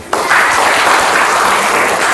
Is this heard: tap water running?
no